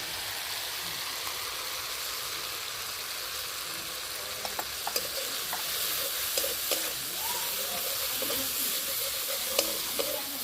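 Ground coriander and cumin fry with a cooked-down masala in oil for a Bengali rui fish curry with brinjal, giving a steady, soft sizzle with a few light clicks and stirring taps throughout, no voices.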